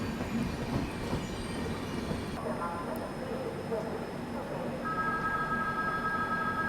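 An Indian Railways train rumbles past nearby with a steady broadband roar of wheels and carriages, a faint high squeal joining midway, continuous throughout.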